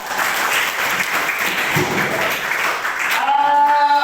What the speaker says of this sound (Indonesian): kasih aplaus buat kalian semua karena luar biasa